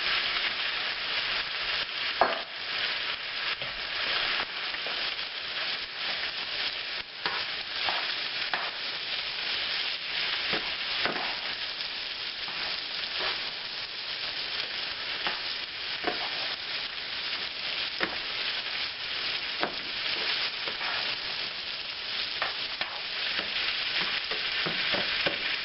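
Green beans stir frying in a hot pan, a loud, continuous close sizzle with occasional crackles and spatula scrapes, steady throughout with no voices.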